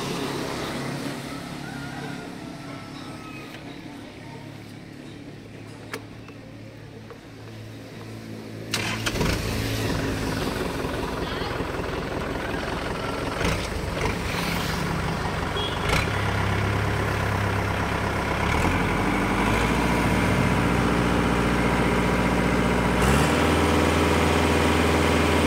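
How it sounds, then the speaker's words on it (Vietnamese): A Kubota L5018 tractor with a 50-horsepower engine cranks and fires up, then settles into a loud, steady diesel idle with a rough, throbbing rumble that continues to the end. "Rồi để lên nổ máy cho bác nghe tiếng động cơ của nó nha."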